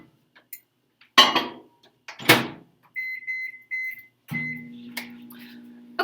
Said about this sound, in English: Now I'm going to stick it in the microwave for 1 minute, 45 seconds.